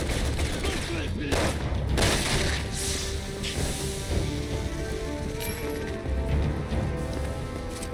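Sustained sniper and gunfire barrage in Resident Evil 6, a dense, loud wash of shots and crashes with sharper cracks standing out, continuous for several seconds.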